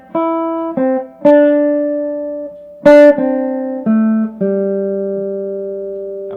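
A guitar picks out a riff, a handful of clear single notes plucked one at a time, each ringing and fading before the next, loud and close with no talking.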